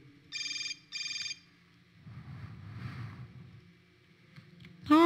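A cell phone in the video game Hotline Miami 2 rings in two short bursts at the start, then a low rumble sounds under faint game ambience, and a brighter warbling ring cuts in at the very end.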